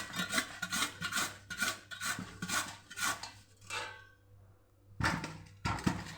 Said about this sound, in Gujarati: હવે આપણે આને ખમણી લેવાના છે ખમણી વડે આવી રીતે